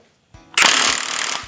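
Milwaukee Gen 3 impact wrench loosening a bolt on a Japanese engine being prepared for a G35 swap: after a faint whir, a loud close burst of rapid hammering rattle runs for about a second.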